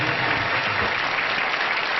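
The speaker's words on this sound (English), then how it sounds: "a nice round of applause for two excellent Tic-Tac-Toe players" A studio audience at a game show claps for two Tic-Tac-Toe players, giving a dense, even wash of applause that holds steady and loud throughout without pause.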